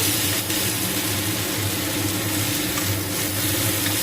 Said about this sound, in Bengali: মিডিয়াম তাপে আস্তে আস্তে এটাকে শুধু ভাজতে হবে